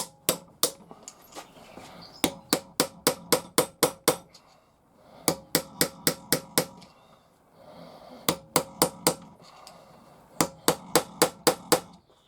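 Bursts of sharp metallic hammer blows driving a screwdriver through metal, quick rhythmic strikes in groups of five to seven with short pauses between, ringing and close.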